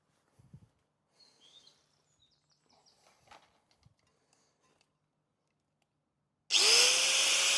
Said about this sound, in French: avec la meuleuse et le disque diamant, je vais agrandir ce trou